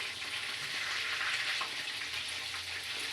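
Fish frying in oil for breakfast, a continuous close sizzle with fine crackling spatters that holds steady throughout, no voices.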